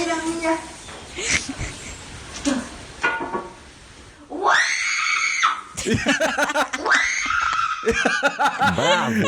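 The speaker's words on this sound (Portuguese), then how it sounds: "O que eu mais gostei foram esses gritos improvisados no final" A girl lets out improvised screams at the end of a song, loud and close. The sustained, rising wails come in a rapid series, and talking and giggling are heard beforehand.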